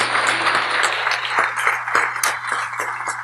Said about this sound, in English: I'd like to share a big round of applause for them to say thank you for everything they've done.